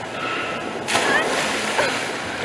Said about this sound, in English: And water went everywhere.